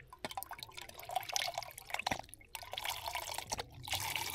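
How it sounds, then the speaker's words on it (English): Water splashes and trickles into a container at a wet Lake District campsite on Grizedale Pike, with close, uneven dripping and pouring that carries on steadily throughout, no voices. "Okay, so we're just going to fill it up with water."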